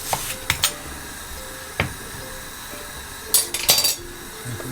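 A big kitchen knife slices a yam in two for Jamaican brown stew beef, giving a few sharp knocks and clinks against the board, spaced apart with quiet gaps between.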